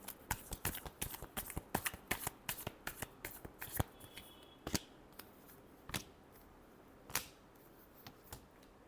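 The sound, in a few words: shuffling tarot cards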